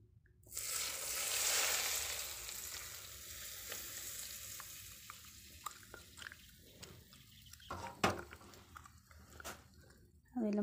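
Turmeric, salt and spices dropped into hot oil for homemade achar: a surge of sizzling right after a quiet start, easing into softer crackle with scattered sharp pops and clinks, fairly quiet overall.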